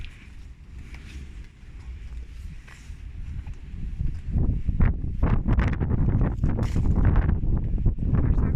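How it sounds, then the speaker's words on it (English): Cold, steady wind gusting across an open mountainside in the High Tatras, a continuous low roar buffeting the microphone that swells louder partway through, with faint rustling and shuffling beneath it. "It's cold and windy, obviously."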